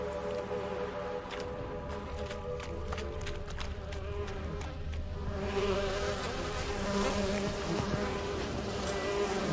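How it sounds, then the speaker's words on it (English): A swarm of bees from The Witcher 3: Wild Hunt drones in a steady, close buzz, with a series of sharp ticking hits over the first few seconds before the buzz thickens and grows louder. "Get you gone, bees."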